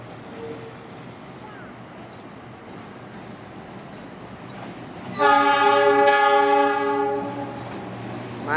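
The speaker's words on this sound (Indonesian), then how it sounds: "Karena keretanya akan belok tuh." A passenger train leaves Bandung station and rounds a curve, its rumbling roll steady in the background before a loud, sustained multi-tone horn blast sounds for about two seconds nearby.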